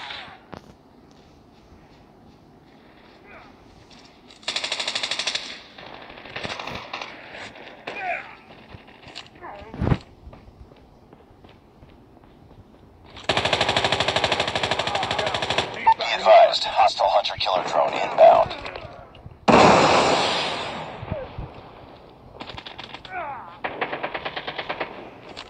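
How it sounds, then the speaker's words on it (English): AK-117 rifle fire in the Call of Duty video game, with loud rapid automatic bursts in several separate stretches and a single sharp shot between them, and a person talking at times. "that guy's using the AK-117 Max"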